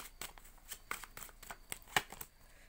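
Tarot cards being shuffled by hand, a quiet run of soft riffling flicks and slaps in uneven bursts, with one sharper snap near the end and no voices.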